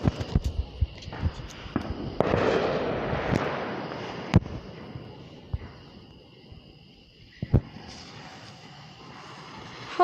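Fireworks exploding outdoors at a distance: scattered sharp booms and crackles spread over several seconds, some loud single bursts and a rumbling volley, with faint background chatter.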